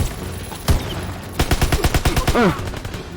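Bursts of gunfire in the WWII shooter Call of Duty: WWII, beginning with one sharp shot and followed by a rapid run of repeated shots, loud and close, with a brief whooshing effect near the end.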